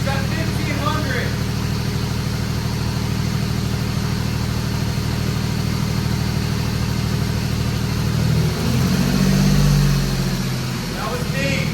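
A Ford Mustang engine idles steadily with a deep low rumble, then builds RPM by itself toward the end, its pitch and loudness rising before settling back.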